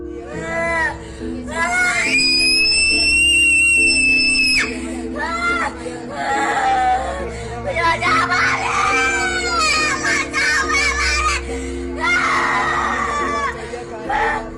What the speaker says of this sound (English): Although they pray, she continues to scream wildly.